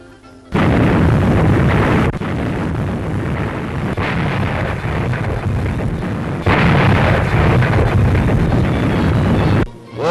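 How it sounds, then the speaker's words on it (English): Sustained roar of South African artillery shelling, guns built in South Africa firing South African-made shells from bush emplacements, heard as a dense, continuous rumble of blasts running almost the whole stretch with a brief dip near the middle. "Shells made in South Africa, fired by guns made in South Africa"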